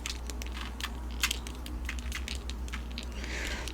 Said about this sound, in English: Just slowly squeezing the trigger on the sprayer to get larger water droplets.